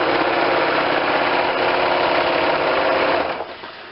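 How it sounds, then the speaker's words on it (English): A sewing machine runs steadily, basting the bottom edge of a mesh and nylon hood together. The whirring motor is loud and close, holds a constant pace, then slows and fades near the end. "Final step for the hood is to baste the bottom edge of the mesh and the hood together"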